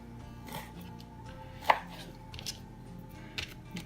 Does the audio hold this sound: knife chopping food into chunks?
yes